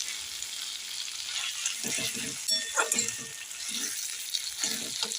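Lemon leaves stirred into a frying fish-head and brinjal dish in a pan, a quiet steady sizzle with a few soft stirring scrapes and clinks.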